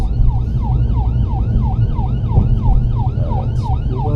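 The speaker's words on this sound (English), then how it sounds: "Look what's behind me. It's just an ambulance." An ambulance siren wails close behind a moving car in traffic, its rapid rising and falling yelp repeating loudly over a steady low road and engine rumble.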